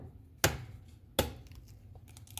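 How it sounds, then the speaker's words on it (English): Two eggs cracked for banana bread, each a sharp, close snap about a second apart, over a quiet room hum with no talking. "Now we're gonna crack in 2 eggs"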